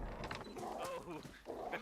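Dogs reacting in the video game DayZ on the Chernarus map, several yelping, whimpering barks in quick succession, close and fairly loud amid gameplay noise.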